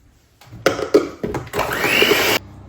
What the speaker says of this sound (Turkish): Burada da muzla yumurtayı şu an çırpıyorum.